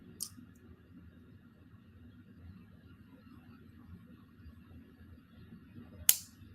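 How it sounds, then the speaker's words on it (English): Jewelry wire tails on looped earring wire snipped with cutters, giving a single sharp, close snip near the end, with a fainter click at the start over a quiet low hum. "I'm going to go ahead and trim off these tails, being very careful not to cut my looped wire."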